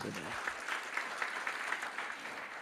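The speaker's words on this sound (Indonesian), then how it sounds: "Beri tepuk tangan buat Tuhan." Church congregation applauding together, a steady wash of clapping from many hands that fills the whole moment at moderate loudness.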